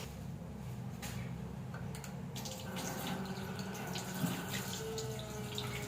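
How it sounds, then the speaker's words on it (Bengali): Tap water runs steadily while vegetables and fish are washed, a continuous hiss of flowing water with faint splashes and clinks, close and moderately loud. "সবজি মাছ সব ধুয়ে রেডি করছি"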